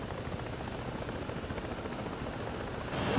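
A helicopter in the video game Ghost Recon Breakpoint: a steady rotor and engine drone that holds level for a few seconds and swells slightly louder at the end.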